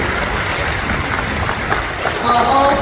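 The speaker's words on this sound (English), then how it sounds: "can we get a round of applause for our newest seal guardian?" A small crowd gives a short round of applause for a new seal guardian at a seal encounter, brisk clapping mixed with voices close by.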